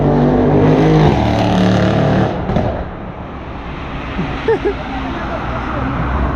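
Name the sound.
cars passing on a Johannesburg road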